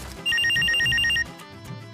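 A telephone rings in a short burst of bright, rapidly repeated electronic trills, loud and close, then stops and leaves a quieter room tone.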